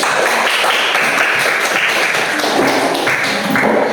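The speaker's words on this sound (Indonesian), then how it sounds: "Kita memberikan aplaus untuk presentasi hari ini" Audience applause after a classroom presentation: a steady wash of many hands clapping at close range, dense and continuous for the whole stretch, with no voices on top.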